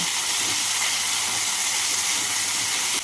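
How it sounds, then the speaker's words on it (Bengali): Chopped tomato frying in hot oil with ginger paste in a pan, giving a loud, steady broadband sizzle that holds evenly throughout with no voices. "এর মধ্যে দিয়ে দিচ্ছি একটা ছোট সাইজের কুচনো টমেটো। টমেটোকে ভেজে নেব।"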